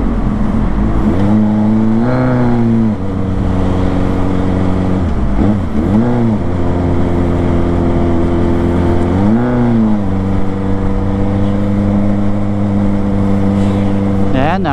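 Large motorcycle on a first ride, its engine droning loud and close with repeated rising revs as it accelerates, a steady growl between pulls.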